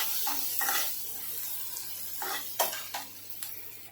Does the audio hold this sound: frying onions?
yes